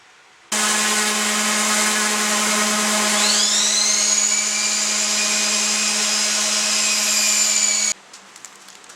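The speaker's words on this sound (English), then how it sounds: "A whole lot of sanding coming up." A power sander runs loud and close on a black walnut and Spanish cedar cutting board, starting abruptly, holding a steady high whine with a brief pitch rise partway, then cutting off sharply, with no talking.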